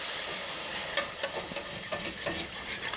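Milk being stirred into flour for white gravy in a hot pan, a soft sizzle with scattered scrapes and taps of the utensil against the pan, close and fairly quiet.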